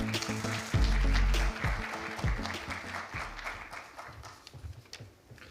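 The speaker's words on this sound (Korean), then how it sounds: "박수로 환영해 주십시오." An audience at a Korean exhibition industry day ceremony applauding to welcome a speaker to the stage, a burst of clapping with a deep thud early on, fading gradually toward the end.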